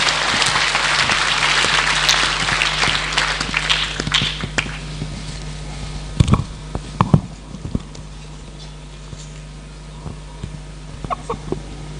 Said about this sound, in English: Ladies and gentlemen, can we applaud as she stands in to give an address to the country?